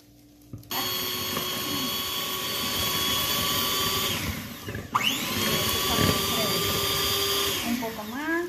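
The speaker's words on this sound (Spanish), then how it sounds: "Ahora comenzamos a batir." A hand or stand mixer beats cake batter made from boxed cake mix, a steady whirring motor hum that starts abruptly and runs continuously, with slight pitch dips as the beaters work; a person talks over it.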